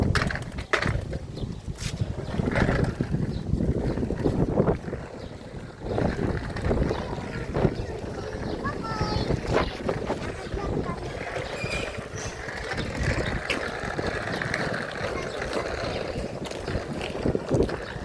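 Steady wind buffets the microphone with a loud, continuous rumble and gusty roar, with faint water sounds underneath.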